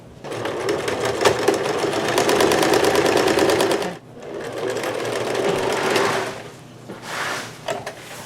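Sewing machine running in fast, steady bursts while stitching a quilt seam along a block edge, loud and close, with a short pause before it resumes and slows near the end.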